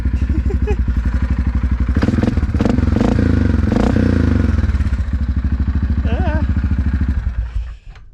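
Yamaha Grizzly 450 ATV idling loud and close through an HMF exhaust that still needs carb jetting, a steady rapid thump with a few blips of revving midway before it cuts off near the end.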